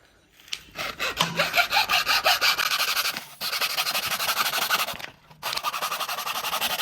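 Steady back-and-forth hand sawing through wood, close and fairly loud, in rhythmic strokes broken by two short pauses.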